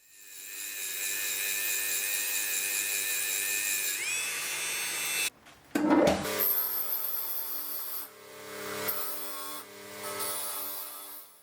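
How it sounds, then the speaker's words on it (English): A Dremel rotary tool with a wire brush scours an old, roughly century-old bicycle lamp. A steady high whine with gritty rasping runs up close, breaks off briefly near the middle, then resumes in uneven surges. "So I decided to get a wire brush on my Dremel and just take the last little bits out."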